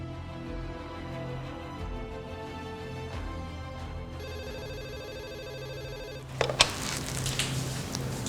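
A phone placing an outgoing call gives a steady ringback tone for about two seconds over a low, constant background of music.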